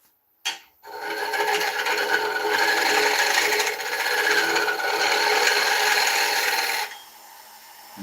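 A woodturning tool cutting an oak tenon on a lathe gives a steady, close rasping shave for about six seconds, starting after a brief knock and stopping abruptly, with slight swells in intensity.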